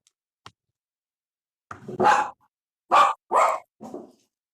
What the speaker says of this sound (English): Every time somebody comes to the door, the dogs bark.